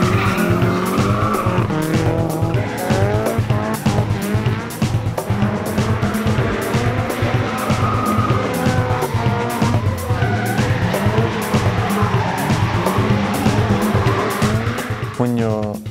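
Drifting race cars, including a 2-litre turbo-powered Toyota AE86, slide sideways with tires squealing and engines roaring continuously at close range, while a commentator talks over the loud, unbroken din.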